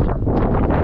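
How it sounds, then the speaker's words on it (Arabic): Strong desert wind roars and buffets the microphone in a continuous loud rush, with no voices heard. "سمعوا سمعوا الريح"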